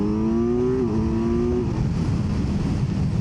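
A 2025 Kawasaki Z900 motorcycle in sport mode gives a steady, close engine drone for about a second and a half, then it fades into loud, continuous rushing wind noise.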